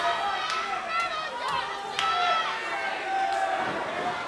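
A wrestling crowd at a tag-team match cheers and chatters steadily throughout, a broad continuous roar with shouts rising out of it, while a commentator talks over the noise.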